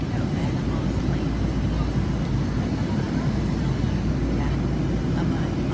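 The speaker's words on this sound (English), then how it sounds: "I'm on the plane." Inside an airplane cabin in flight, a steady, loud, broadband roar of engine and air noise holds at a constant level throughout, with no breaks.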